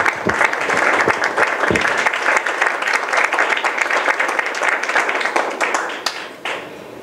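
An audience gives a warm, loud round of applause welcoming a speaker at a politics and humanism lecture, dense clapping that holds steady before tapering off near the end.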